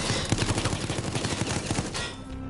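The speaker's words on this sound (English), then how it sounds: "In case you are paying attention, I have deployed a gun." A deployed gun in Resident Evil Resistance fires a rapid burst of automatic gunfire, a dense run of quick, evenly spaced shots that keeps going for about two seconds before cutting off, with no talking.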